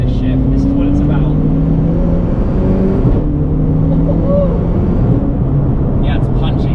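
A Zenvo supercar in race mode pulls hard through second gear, its engine and exhaust a loud, continuous roar heard from inside the cabin, with a brief dip at the gear shift.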